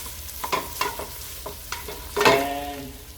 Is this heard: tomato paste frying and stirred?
yes